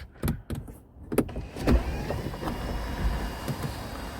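Electric sunroof of a 2022 Volkswagen Polo 85TSI Style opening, a few short clicks and thumps followed by a steady whirring motor hum as the panel slides back inside the cabin.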